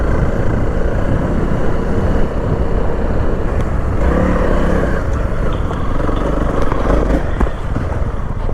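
Honda CRF300L dual-sport motorcycle riding over a rocky dirt trail, its engine droning steadily and loudly alongside constant rumble and wind buffeting, with no break in the noise.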